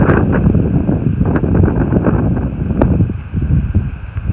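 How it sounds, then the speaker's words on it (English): Strong wind near Uluru in central Australia buffets the microphone with a loud, continuous roar and occasional gusty thumps, with no one speaking. "Bloody windy."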